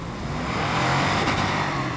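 A Lexus LX 570 SUV engine roars at high revs while stuck off-road, a loud steady strain held near the limiter with a wash of tire and mechanical noise, no voices.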